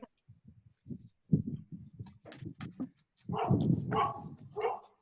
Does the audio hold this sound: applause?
no